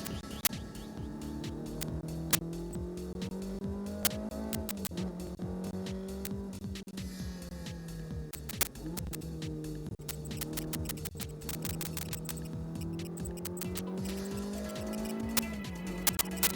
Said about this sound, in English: Twirled around the Fiorano test track with effortless ease by Michael Schumacher